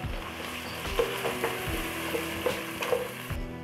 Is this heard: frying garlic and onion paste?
yes